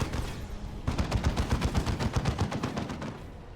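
Rapid gunfire in the Warhammer 40K Dawn of War 2 video game, a dense rattling stream of shots that intensifies after the first second and keeps going loud and continuous.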